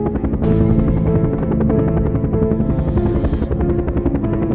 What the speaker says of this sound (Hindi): तभी हेलीकॉप्टर की आवाज आने लगी।